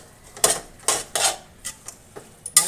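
A utensil clinks and scrapes against a pan while pumpkin vine curry is stirred, giving a handful of sharp metallic knocks spaced irregularly over a couple of seconds, close and fairly quiet, with no talking.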